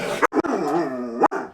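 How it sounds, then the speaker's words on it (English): Dogs bark and yip in a few sharp, close bursts, a short run of excited barks heard indoors. "Sorry about the barking, but the dogs be mad."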